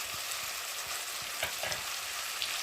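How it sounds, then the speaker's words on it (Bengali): Onion, cumin, ginger and garlic paste with chopped tomato and chili powder sizzling in oil as a masala is sautéed, a steady loud fry with stirring strokes scraping through it, no voices. "মশলাটা ভালোভাবে কষিয়ে নেব"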